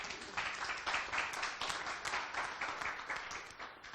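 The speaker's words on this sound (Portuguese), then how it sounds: "Palmas para o Vasco, por favor." Audience applause at a conference session, a short burst of many people clapping at a moderate distance, fairly even and sustained, somewhat faint, with no talk over it.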